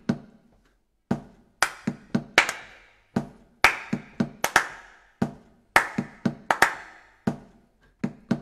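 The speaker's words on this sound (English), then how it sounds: "And then we come in with some clapping." Sharp, close hand claps from a home choir ring out in a rhythmic pattern, single claps alternating with quick pairs, each cracking bright against near silence.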